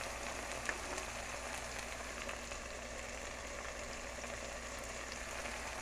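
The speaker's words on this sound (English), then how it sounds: "I'm frying everything in here with onions and peppers" Fish sizzles in a pan with onions and peppers, a continuous, even crackle like steady rain that holds at one level throughout, with no talking.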